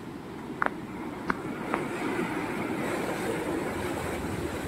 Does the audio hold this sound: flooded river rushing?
yes